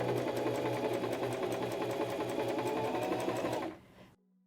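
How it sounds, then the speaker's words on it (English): Stitching through fabric, a Singer M3400 sewing machine runs with a steady rapid whir and needle clatter, then winds down and stops, leaving a faint hum. "step on the foot control to sew forward again"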